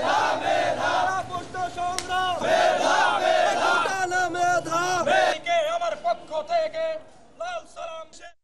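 A crowd at a quota reform protest march in Jamalpur chants loudly in unison, with rhythmic shouted slogans and a leading voice, fading to sparser calls near the end.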